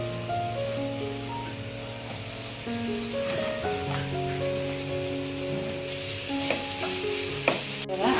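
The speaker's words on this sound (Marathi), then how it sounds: "बघा आता मी मस्तपैकी परतून घेते." Jackfruit vegetable is stir-fried in a pan the traditional Konkan way, producing a steady close sizzle with soft stirring scrapes and a few clinks over a persistent background hum.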